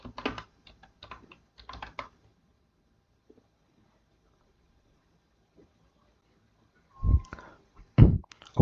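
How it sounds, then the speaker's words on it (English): Bursts of rapid key clicks on a computer keyboard come in short runs, then a pause, followed by a couple of louder thumps near the end. "let's type one more message."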